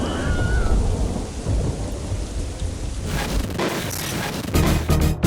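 A thunderstorm sound effect in a mock TV weather forecast: loud, steady heavy rain with deep rolling thunder throughout, with no voices.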